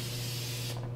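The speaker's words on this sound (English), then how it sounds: "I'm just spraying on some satin black directly onto this aluminum." An aerosol can sprays satin black paint directly onto an aluminum oscilloscope panel, a close, continuous hiss that cuts off near the end over a steady low hum.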